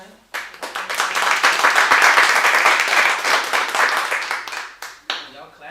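An audience at a Trenton Housing Authority board meeting claps steadily for about five seconds, a dense, close burst of applause that trails off into scattered claps.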